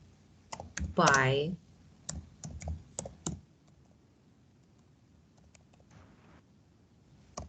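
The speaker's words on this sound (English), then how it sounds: "I'm typing" Keys on a computer keyboard click in short irregular bursts of taps, close and moderately loud, with a voice speaking briefly among them and quiet pauses between runs of typing.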